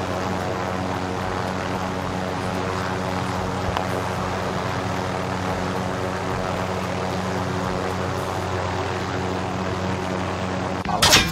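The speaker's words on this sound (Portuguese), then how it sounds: "Os caras no helicóptero atirando no Emmanuel" A video game helicopter's rotor and engine drone on steadily and loudly throughout, with a brief louder burst at the very end.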